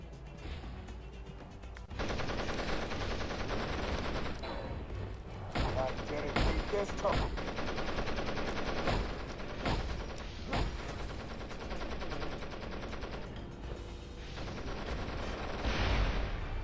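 Rapid gunfire from a third-person shooter, Avatar: The Game on Wii, crackles almost continuously at close range amid busy action sounds and music, with intermittent bursts across the whole stretch.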